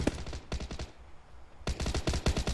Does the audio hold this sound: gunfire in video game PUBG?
yes